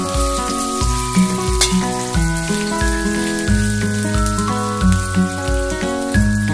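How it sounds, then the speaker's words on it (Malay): Sliced shallots, garlic and ginger sauté in hot oil in a wok, a continuous fine sizzle running beneath loud, steady background music throughout. "Kita akan tumis sehingga agak garing kekuningan."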